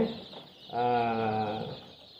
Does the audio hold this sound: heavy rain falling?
no